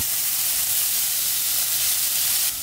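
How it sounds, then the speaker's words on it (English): Celery and carrot cooking in a pot give a steady, bright hissing sizzle, loud and unbroken, easing slightly quieter toward the end. "with the same pot, we are going to cook the celery and the carrot"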